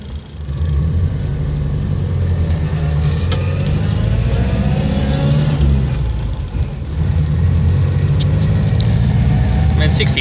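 A 62-year-old Morris Oxford engine revs and accelerates steadily while driving, a low rumbling drone throughout with faint voices underneath.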